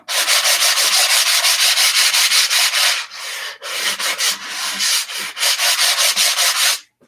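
Sandpaper rubs back and forth in quick rhythmic strokes on a chalk couture craft project, a close, dry scratching with a brief pause midway.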